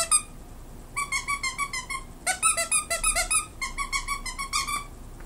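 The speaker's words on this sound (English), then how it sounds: "This is another Dundee dog toy. Squeaks right there. They have different squeaker sounds." A squeaky dog toy squeaker, a Dundee brand toy, is pressed in quick bursts of rhythmic, high-pitched squeaks, close and loud, repeating over several seconds with brief pauses.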